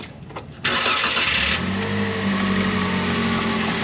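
A 2017 Toyota Avanza, serviced for an ABS motor issue, cranks briefly and fires up, then settles into a steady, close idle hum.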